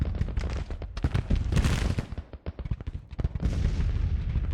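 Dense battlefield gunfire in the Civil War strategy game GTCW, with rolling volleys of musketry and booming cannon layered into a continuous loud roar that briefly thins before swelling again.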